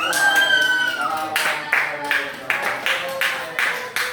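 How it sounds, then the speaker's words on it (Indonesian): A classroom of students claps in applause, a burst of scattered hand claps fading into sparse individual claps over several seconds. "Beri aplaus."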